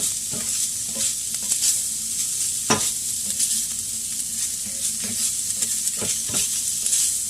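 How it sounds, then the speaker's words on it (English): Vegetables sizzling steadily in a hot pan while being cooked for a keto meal, with a bright, continuous frying hiss and regular scraping stirs, close and loud, no voices. "It's mostly heating up my veggies, get my veggies in there and getting them cooked well."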